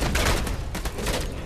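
Rapid gunfire from the video game Alone in the Dark: Illumination, a dense burst of shots blending into a continuous loud fusillade with no pauses.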